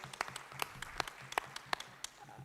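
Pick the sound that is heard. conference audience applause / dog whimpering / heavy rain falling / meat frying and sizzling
conference audience applause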